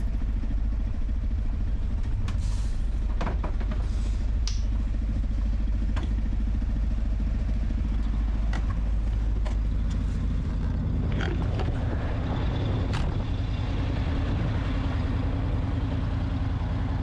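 An old bus engine idles steadily after a first start following years abandoned, a deep, low rumble with occasional clatter and knocks over the top, continuous throughout.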